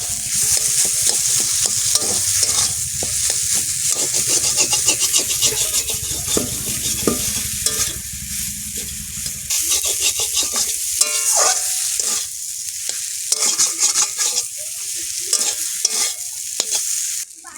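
Spices fry in oil for a taro leaf curry cooked with coconut, loud continuous sizzling with busy stirring and scraping of a spoon against the pan throughout, no one speaking.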